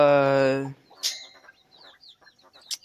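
Andalusian chickens in a backyard coop give a loud, drawn-out call up close, then a scatter of softer clucks and short chirps follow at a distance, with a few sharp peaks among them.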